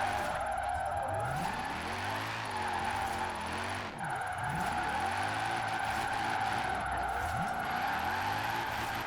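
Vintage Mercedes on race tires drifting in Forza Horizon 4, tires squealing in long sustained slides over a droning, rising and falling engine, loud and continuous.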